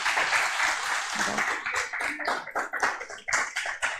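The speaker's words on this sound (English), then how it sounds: "They deserve a round of applause" An audience at the Solar Decathlon India Finals 2024 applauds the jury, with close, fairly loud clapping that starts dense and then thins into scattered, uneven claps toward the end.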